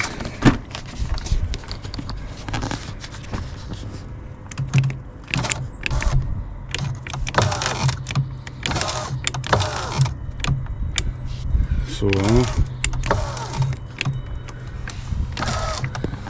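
A Range Rover power window with a failing regulator running up and down: the motor whirs under car interior noise, with clunks and rattles from the door and a brief rising whine, heard up close.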